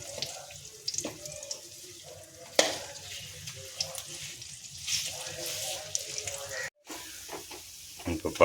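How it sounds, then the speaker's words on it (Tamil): Dates and nuts cooking in ghee for homemade dry-fruit balls, a steady soft frying sizzle with scattered clinks and stirring scrapes from a pan, close by and moderately quiet, with a brief dropout near the end. "நல்லா கொஞ்சம் நெய்யில் இதெல்லாம் போட்டு நல்லா இலகி வந்திருக்கு"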